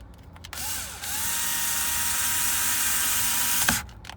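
A power screwdriver whirs steadily for about three seconds, close and loud, as it drives screws down near the battery of an Alfa Romeo Giulia or Stelvio. It starts with a short rising whine and ends abruptly.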